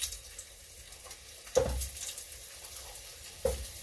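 Potatoes sizzle steadily in a hot frying pan, with two sharp clatters of stirring breaking through the quiet frying hiss.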